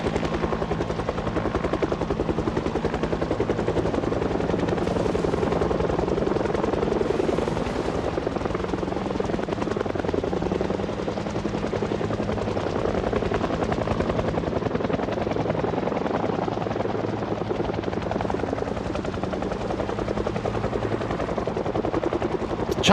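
Helicopter flying overhead during an event in the Project Zomboid video game, a loud continuous rotor thrum and engine roar that swells and fades slightly while staying close and steady throughout.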